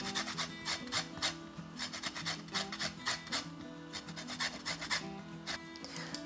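Lemon zest is grated for a creamy scallop dish with a rapid series of close rasping strokes on a grater, rhythmic and quiet, with no talking.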